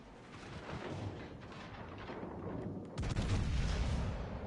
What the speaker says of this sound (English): Is that King George firing AP at me?